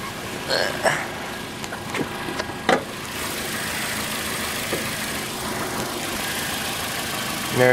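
A 2012 Toyota Corolla engine idles steadily after a cold start in about 9-degree weather, a constant mid-pitched hum with a few clicks and knocks early on, and a voice speaking briefly nearby.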